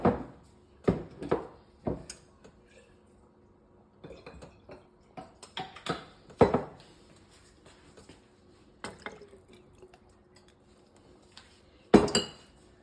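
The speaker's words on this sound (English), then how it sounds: "That's a rinse of my tomato paste bottles." Tomato paste bottles being rinsed out into a pot of chili mac, heard as scattered clinks, taps and splashes in short bursts, close and moderately loud against a quiet background.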